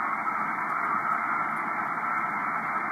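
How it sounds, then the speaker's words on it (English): A weak amateur radio signal on the 24 MHz band, heard as a steady hiss of band noise with a faint, barely distinct tone buried in it, continuous and even in level, with no speech. "That sounds like a signal,"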